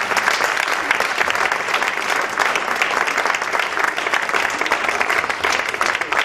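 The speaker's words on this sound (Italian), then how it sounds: "Un applauso alle muse." Sustained audience applause at a live evening show, a dense and loud wash of clapping from a crowd that holds even throughout, with no talk over it.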